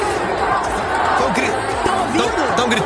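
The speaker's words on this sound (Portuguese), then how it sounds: "o pessoal vaiando" A stadium crowd boos football player Piqué, a dense loud roar of jeering voices and shouts filling the whole clip.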